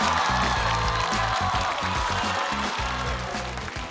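A studio audience claps and cheers to welcome a performer onto a comedy show stage. The applause is a dense, steady wash throughout, with loud stage music thumping underneath.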